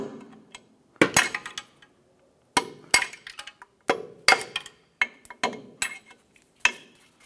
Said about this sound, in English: Using a punch and a hammer, go ahead and work these through.